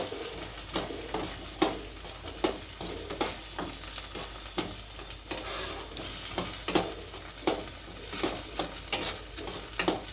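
Bread halwa with roasted dry fruits being stirred in a pan, a spoon scraping and knocking against the metal in a steady series of close taps over a soft sizzle.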